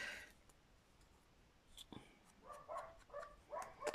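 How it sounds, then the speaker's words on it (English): Dogs bark in bursts from somewhere off in the distance, faint and intermittent against a quiet room, with a few nearer clicks at the start. "Dogs are off again, in case you didn't know."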